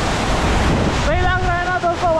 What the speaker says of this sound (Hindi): सही लग रहा है ना दोस्तों वाटरफॉल यहाँ से।